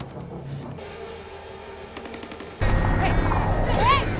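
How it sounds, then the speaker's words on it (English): Encroaching gunfire in a wasteland battle, a few sharp bursts of shots under talk, then a sudden loud wall of roaring engine and battle noise with whistling tones. "Encroaching gunfire?"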